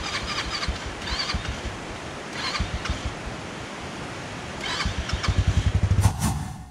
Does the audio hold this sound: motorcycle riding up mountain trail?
yes